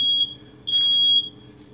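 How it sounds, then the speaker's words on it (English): A piercing, high-pitched smoke alarm beeps in short repeated bursts, loud and close, with no voices. "The smoke alarm is going off."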